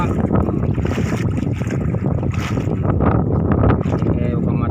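A boat moving on open water, with a steady rushing of wind and engine noise throughout and water sloshing, loud and close.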